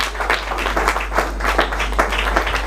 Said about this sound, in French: Sous vos applaudissements, encore une fois de plus.